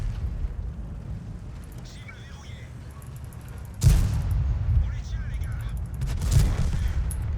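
Tank cannon shots fired at an IS-32 in World of Tanks, with a sharp loud blast near the middle and another later, over constant engine and battle rumble.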